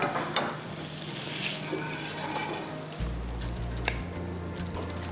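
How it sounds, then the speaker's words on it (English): Paneer sears in a hot pan with a steady close sizzle of frying, a low rumble underneath and a few brief clinks and scrapes, with no voices. "So nicely seared paneer."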